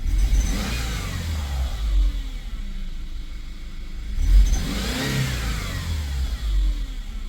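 A car engine idles unusually low at about 500 rpm, rumbling steadily up close, with two brief swells as it revs slightly before settling back down.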